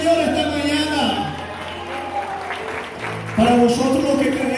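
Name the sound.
applause in church congregation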